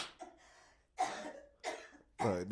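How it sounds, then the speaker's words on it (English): Three or four harsh coughs in a row, close and fairly loud, with short pauses between them and no talking. "She had to cough on that one."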